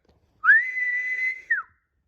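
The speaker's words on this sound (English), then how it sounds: "Then a shrill whistle caught his attention." A single shrill, sustained whistle about a second long, steady in pitch with a slight rise at the start and a brief falling note at the end.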